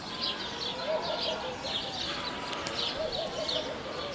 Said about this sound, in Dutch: Dat is een mus.